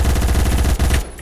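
Rapid full-auto bursts from a Colt SMG in the shooter game Phantom Forces, a loud close stream of shots that cuts off abruptly near the end.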